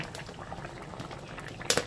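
Pabda fish curry with potato and eggplant simmers in a red gravy, giving a steady close bubbling boil, with a brief louder burst of bubbles near the end.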